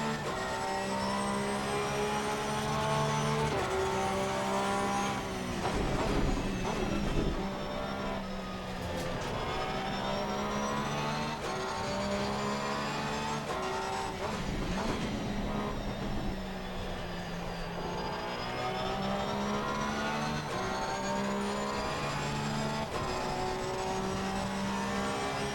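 A Porsche 911 GT3 R race car in Assetto Corsa Competizione, on a wet track, roars loud and continuously through a lap, its engine pitch climbing and dropping with gear changes and braking.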